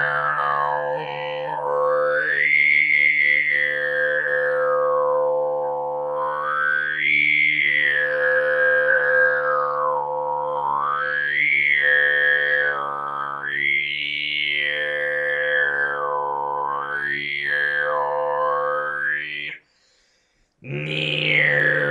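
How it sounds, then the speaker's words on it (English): A single voice throat sings loudly, holding a steady low drone while a whistling overtone glides up and down in slow waves for about twenty seconds, then breaks off briefly near the end. "another method I learned is called throat singing, and it's really loud."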